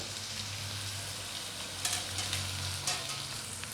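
Finely chopped onion and green chillies frying in oil for sabudana khichdi, a dense, continuous close sizzle with a couple of brief stirring scrapes near the end.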